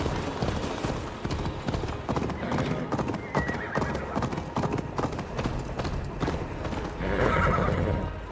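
Horse hooves clip-clop at a gallop in Assassin's Creed Valhalla, a fast irregular beat of strikes with a neigh partway through, layered under game music and ambience.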